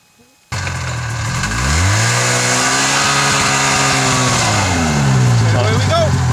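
An engine with a carburetor mixture out of adjustment, its needle being lowered, kicks in abruptly, revs up with a rising then sustained tone, and dips back down close by.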